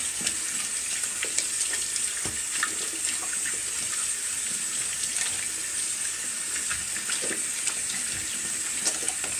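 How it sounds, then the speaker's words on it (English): Water runs steadily from a tap while hands are washed beneath it, a continuous close hiss with small splashes and rubbing and no talking. "Wash your hands now. Wash your hands good."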